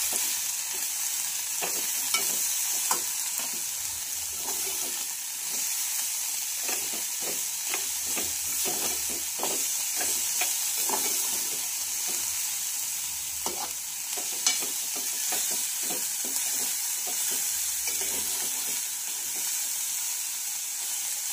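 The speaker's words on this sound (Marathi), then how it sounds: "यानंतर घालायचे आहे हळदी पावडर आणि छान असं याला फ्राय करून घ्यायचं आहे।" Dried shrimp fried in a pan with salt and turmeric powder, a steady close sizzle and hiss running throughout, broken by repeated scraping stirs of a spatula, with no talking.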